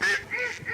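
A short burst of nasal duck quacks serves as a sound effect in an Assamese radio drama. Two or three honking calls come close and clear, with no talk over them.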